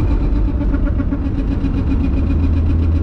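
Mk3 Jetta VR6 engine running with a grinding fault, a loud, steady close drone with a rough, rhythmic grinding pulse throughout and no talking.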